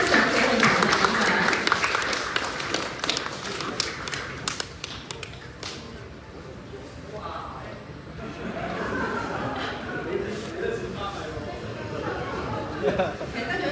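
An audience at an award ceremony for a Hong Kong creative competition applauds a winner, with steady clapping that fades to murmuring chatter and some laughter while people talk in the background.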